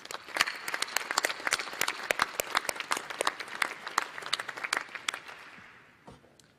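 A large seated audience at a new lawyers induction ceremony gives sustained, dense applause full of crisp individual claps, which thins out and fades away near the end.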